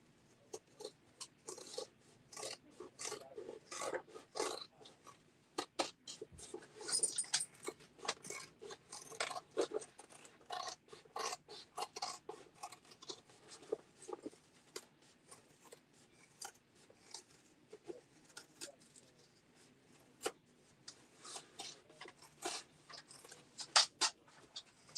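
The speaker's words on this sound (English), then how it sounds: "Someone's eating." Someone chewing and eating food, faint crunchy bites and clicks repeating irregularly at close range over a quiet background, with no talking.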